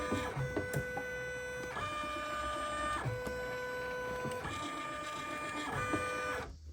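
A Poolin embroidery machine traces the outline of a design on a bucket fishing hat, producing faint, repeated mechanical whirring passes with tonal motor whines that start and stop in a regular rhythm.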